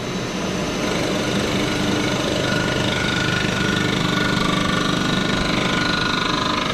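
A valve seat cutter machines a Lancia Delta Integrale cylinder head with a steady, loud mechanical whirring and grinding drone, close and unbroken, with no voices.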